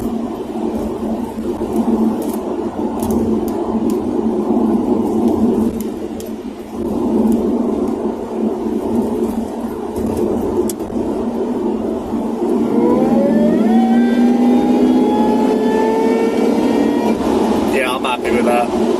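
Car engine with modified air ducts, intake whine rising in pitch as the engine revs, heard from inside over a broad road roar and speech.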